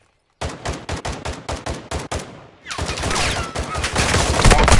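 Enemy gunfire in the video game Warzone DMZ, a close, loud string of about ten evenly spaced shots that gives way to a dense, continuous barrage growing stronger toward the end.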